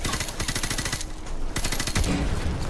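Rapid automatic gunfire in the video game Call of Duty: Modern Warfare Remastered, dense bursts of sharp shots with a short pause between volleys, loud and close.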